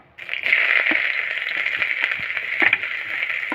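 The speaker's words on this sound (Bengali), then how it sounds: "তেলটা গরম হয়ে গেছে, আমি পেঁয়াজ দিয়ে দেবো" Chopped onions dropped into hot white oil in a wok, a loud, steady crackling sizzle that starts abruptly and carries on close by, with small pops and stirring clatter over it.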